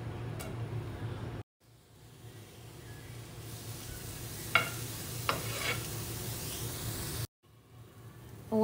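Onion frying in a little oil in a pan, a steady low sizzle that runs nearly throughout, broken by two brief silent gaps, with a few faint clicks of a utensil.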